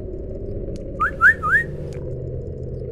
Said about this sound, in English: I wonder if my noise gates picks up whistling.